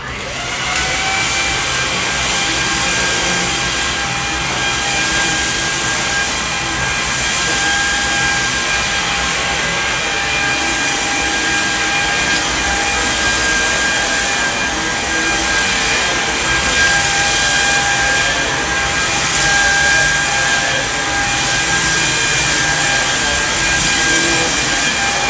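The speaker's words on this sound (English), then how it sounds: "You can hear those beater bars digging deep down into the pile of the carpet and cleaning deep into the carpet." A Samsung Jet VS70 cordless vacuum runs over a dirty carpet, its motor whine and a steady high tone held loud and constant, while the spinning beater bars add a rough brushing texture throughout.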